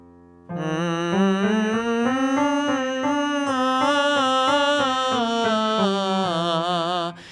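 A single sustained sung tone starts as a hummed nasal NG sound and opens into an open ah vowel, with steady pitch and gentle vibrato, voice alone.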